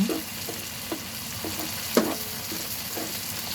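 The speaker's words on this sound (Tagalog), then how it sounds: "Gisa-gisa lang. Then, ilalagay na natin ang ating mga gulay." Vegetables sautéing in a hot pan give a steady sizzle, with soft stirring scrapes and a brief louder clatter near the middle; no one talks.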